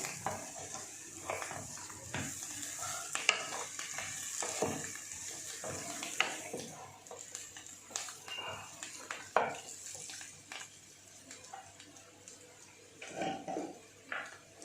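Cashew chicken fry being stirred in a pan, with repeated scraping and clinking of a spoon against metal over a soft, steady sizzle, close and moderately loud with no talking.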